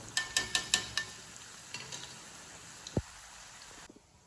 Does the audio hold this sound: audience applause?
no